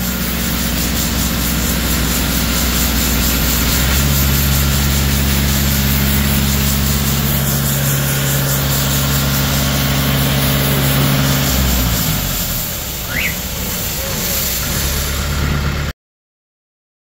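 A 62 hp diesel engine drives a high-pressure washer fitted with a test nozzle. It runs loud and steady with a deep humming drone, and its pitch shifts partway through as the load or rpm changes.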